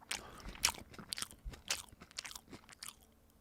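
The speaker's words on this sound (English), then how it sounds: "I'm chewing for two now." Someone chews a veggie sandwich close to the microphone with soft crunches, bites and wet mastication in an irregular rhythm, faint overall and with no speech.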